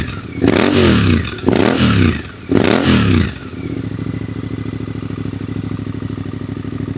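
Suzuki GSX-8R with a straight-through baffled exhaust, no cat, blipped three times in quick succession, each rev rising sharply and falling off loudly, then dropping to a lumpy, rumbling idle.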